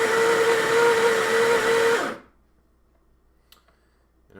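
A coffee grinder whirs loudly and steadily as it grinds coffee beans for about two seconds, then cuts off abruptly into near silence with a faint click afterward.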